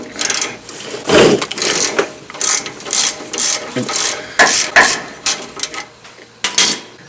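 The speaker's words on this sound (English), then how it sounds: "Next, loosen the nut using a 13/16 socket and ratchet." A ratchet with a 13/16 socket loosening the steering nut on a 1994–2001 Dodge Ram pickup during pitman arm work, loud close bursts of rapid clicking repeated in quick strokes with short pauses between.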